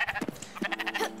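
A sheep in the video game Spiritfarer bleats in a few quick wavering calls, clear and close, repeating over about a second with no talking.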